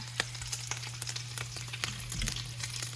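Bacon strips frying in a pan, a steady close crackling sizzle with frequent small pops and spits, no voices, and a low electrical hum underneath.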